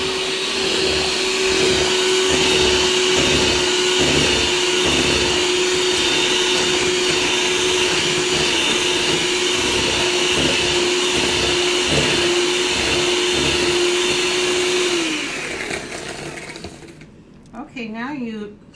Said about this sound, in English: And again, you gradually add that while you have your beater running.